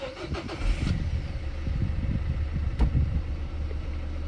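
A reprogrammed car engine cranks over and catches, then settles into a low, steady idle with a few sharp clicks, heard fairly close at moderate level.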